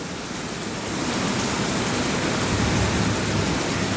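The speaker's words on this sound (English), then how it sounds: "It's heavily raining." Heavy rain pours steadily in Jeddah, a dense, loud, unbroken hiss of rainfall that swells slightly after the first second and holds constant, with no voices.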